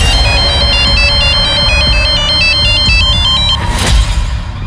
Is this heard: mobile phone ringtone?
yes